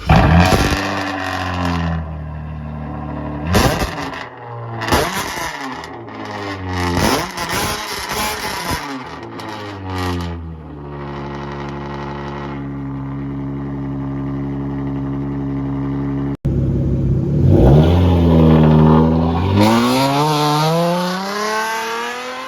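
Close, loud revving from a V6 Chrysler 300 with its resonator and catalytic converters removed: several sharp throttle blips, then long sustained high revs, with a brief cut partway through.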